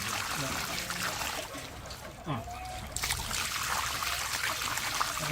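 Muddy borewell water trickles and splashes steadily out of a water filter being washed, a continuous close hiss of running water with a brief dip in the middle.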